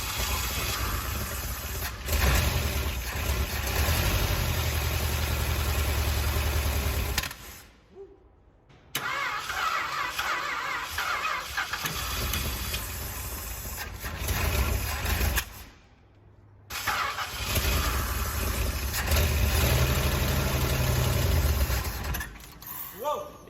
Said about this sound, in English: here's a startup with all that on it